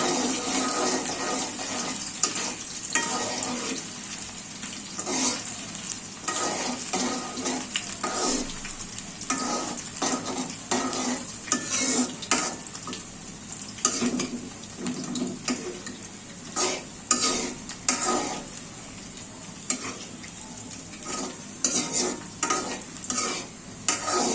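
Chopped onions frying toward light brown in a home kitchen pan, a continuous soft sizzle broken by repeated scraping strokes of a spoon stirring them, close and moderately quiet, with no voices.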